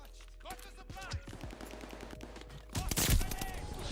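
A weapon being blind fired in Call of Duty Vanguard multiplayer cracks out in a quick series of shots, capped by a louder, denser burst near the end, with faint talking underneath.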